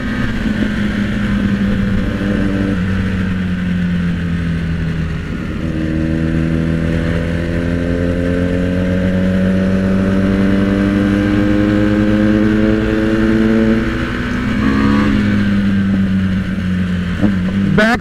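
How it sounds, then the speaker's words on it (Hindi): Kawasaki Z900 motorcycle on a road, its engine droning and rising in pitch through long revving pulls, with a sharp crackle near the end, loud and close, someone speaking faintly under the engine. "जैसे डाउन गियर करते हैं ना, डाउन शिफ्ट करते हैं, खतरनाक बैक फायर्स मारती है भाई।"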